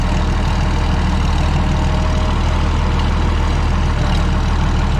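A Minneapolis Moline A4T 1600 tractor engine idles steadily in a barn, a continuous low rumble with a faint whine, close and loud, without speech.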